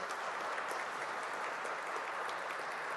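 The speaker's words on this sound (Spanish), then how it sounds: "Lo recibimos con un fuerte aplauso." Steady, dense applause from an audience at a trade union labour reform event in Chile, continuous clapping at even loudness throughout with no pauses.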